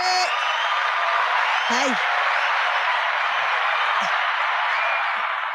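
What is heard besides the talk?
audience applause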